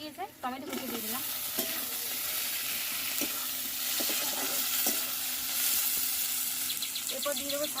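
Chopped tomato hits hot oil with fried onions in a village kitchen, giving a steady close sizzle with intermittent scraping stirs and a few faint background chirps.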